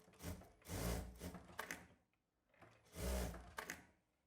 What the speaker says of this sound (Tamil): இந்த மாதிரி வந்து நான் 2 தையல் போட்டுக்கிறேன் ஷோல்டரில்